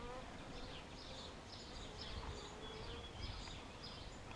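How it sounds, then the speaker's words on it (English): A dense, steady hum of many honey bees buzzing close by inside an open hive, a continuous droning swarm sound with faint higher whines drifting over it. "there's a lot of bees in here still"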